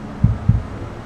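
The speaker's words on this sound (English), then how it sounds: "You hear that? Little heartbeat." Two soft, low thumps of a synthesized heartbeat played inside a Mercedes concept car, evenly paired and alone over a faint cabin hum.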